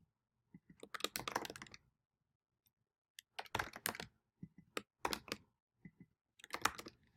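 Typing on a computer keyboard while editing a property listing flyer, with quick bursts of clicky keystrokes separated by short pauses, close and alone without talk.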